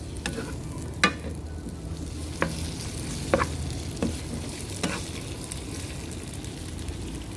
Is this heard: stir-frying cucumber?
yes